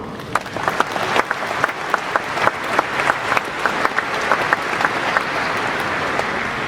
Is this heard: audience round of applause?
yes